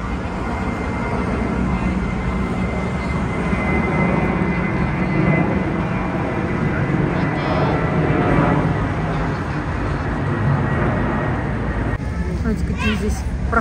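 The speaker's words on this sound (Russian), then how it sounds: "над пешеходными улицами взлетают лайнеры" A loud, steady roar of an airliner taking off overhead fills the whole stretch, broad and rumbling, with faint voices and street activity beneath it on pedestrian streets in a city center.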